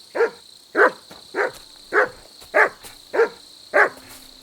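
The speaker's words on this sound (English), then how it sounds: "Good dog, Mutz." A dog in the video game Kingdom Come: Deliverance II barks seven times in a steady, evenly spaced run, each bark loud and close, with a faint steady tone underneath and no talking.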